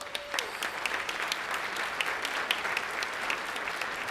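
Luncheon crowd at a country club applauds steadily, a dense wash of clapping from many hands held at an even level for a few seconds with no talk.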